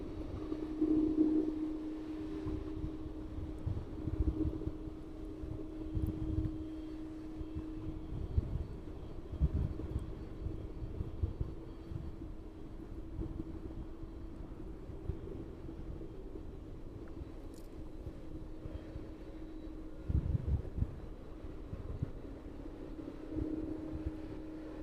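Ryanair jet airliner idling while holding at the threshold of runway 27 at East Midlands Airport, a steady low engine drone with a faint tonal hum, heard from a distance with wind buffeting the microphone throughout.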